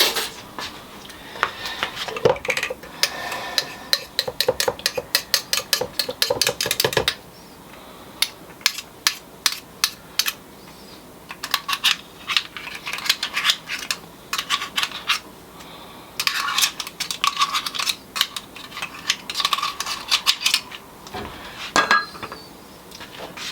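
A teaspoon scrapes and clinks against a bowl of thick homemade mayonnaise, loud close metallic taps and scrapes coming in irregular bursts with quiet pauses between, no speech.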